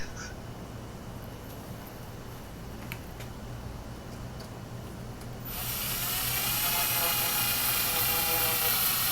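A drill bores a pilot hole during a smelter build, a steady high whine kicking in partway through and running loud to the end over a low background hum.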